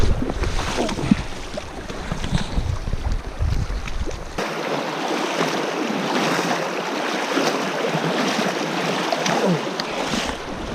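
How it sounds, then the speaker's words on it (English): Water rushes and splashes steadily as someone wades across a wide river with a strong current, with continuous wind buffeting the microphone and no talk. "3 minutes to cross the river, but I'm done."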